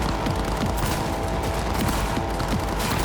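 Continuous gunfire in the video game Cyberpunk 2077, a dense, steady barrage of shots against a busy in-game background, loud and unbroken throughout.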